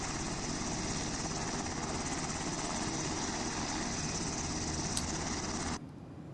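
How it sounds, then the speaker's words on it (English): A UH-60 helicopter taxiing on an airfield, likely simulated in X-Plane 11, makes a steady, loud, dense rotor and engine roar that runs unbroken before cutting off abruptly near the end. "So this UH-60 came in. They're taxiing right now."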